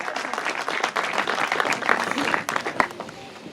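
Crowd applause at a political gathering for Chaudhry Musa Elahi, many hands clapping in a dense, fairly loud burst that carries through the short clip before tapering toward the end.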